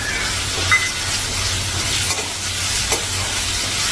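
Cashews fry in a pan with a steady loud sizzle while being stirred, with a few light clinks of the spoon against the metal, close up and with no talking.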